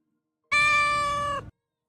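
A stray kitten out on winter ice gives a single loud, close meow lasting about a second, with silence before and after.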